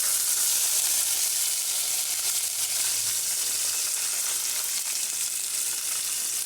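Chana dal and green chillies fry in hot oil in a pan for semiya upma, giving a steady close-up sizzle with no talking.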